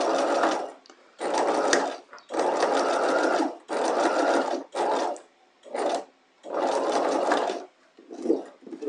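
A sewing machine stitches down knife pleats in fabric in a series of fast, loud whirring runs of one to two seconds each, separated by short pauses, close by and with no talk.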